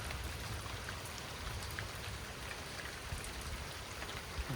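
Steady rain falls at a lake during a mild thunderstorm, a dense, even hiss of drops on surfaces with scattered sharper patters, close and continuous with no voices.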